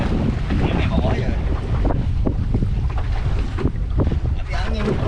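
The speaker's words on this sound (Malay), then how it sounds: "Tapi angin kuat. Tak tahan angin." Strong wind blows at sea over a fishing boat out jigging near Bagan Lalang, a constant roaring gust buffeting the microphone with rumbling water and hull noise underneath.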